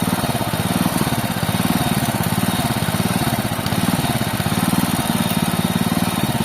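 The engine of a drilling machine converted to hydraulics runs steadily, a loud chugging idle with a fast, even pulse that goes on throughout, with no talking.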